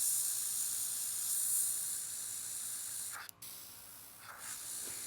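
Continuous soft hiss of an airbrush spraying paint for nail art, steady and fairly quiet with a brief break partway through.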